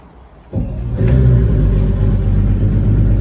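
A car engine cranks and catches after a short pause, then settles into a loud, steady low rumble that keeps running to the end.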